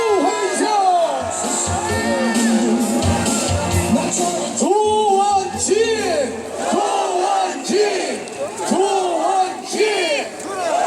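A large political rally crowd in Daegu loudly cheering and chanting in unison to welcome a speaker, with rhythmic shouted calls rising and falling over a dense roar of voices.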